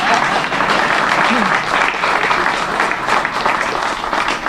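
A crowd at the redesignation ceremony for Pullman National Historical Park breaks into loud, sustained applause, a dense continuous clatter of many hands.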